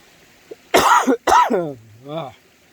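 A throat clearing followed by a few rough, hacking coughs from someone ill with COVID-19, close and fairly loud, with a short strained vocal sound at the end.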